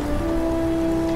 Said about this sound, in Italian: E non smette di piovere. Piove sempre qua.